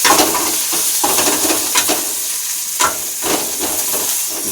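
Garlic, cumin, mustard seeds, curry leaves and onion sizzle in hot oil for a tempering, a loud continuous frying hiss with brief scraping stirs, close up and without talk.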